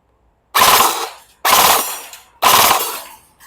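A second-hand Golden Eagle M16 A4 electric airsoft gun fires three rapid bursts in even succession, each a loud buzzing rattle of shots lasting about half a second, with brief pauses between.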